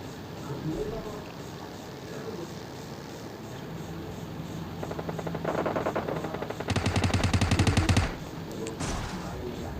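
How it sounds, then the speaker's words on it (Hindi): Automatic rifle fire in PUBG Mobile Lite, with rapid bursts of shots growing louder toward the end over game background sounds, with someone talking throughout. "तो आगे फायरिंग हो रही होती है"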